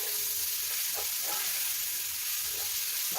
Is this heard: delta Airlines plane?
no